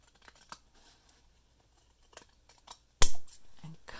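Scissors trim excess paper from a woven paper postcard: a few faint, scattered snips, then one sharp, louder cut followed by a short rustle near the end, with no voices.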